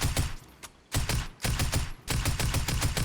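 Rapid bursts from the Tactical Assault rifle in Fortnite: four tight strings of fast shots separated by brief pauses, loud and close, with no talking.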